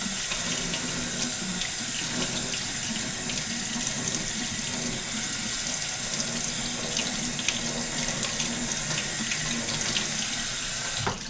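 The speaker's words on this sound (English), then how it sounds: "I watch the water spatter across the sink when I'm spinning" Tap water pours steadily into a kitchen sink, a continuous close splashing rush that holds even from start to finish, with no voices over it.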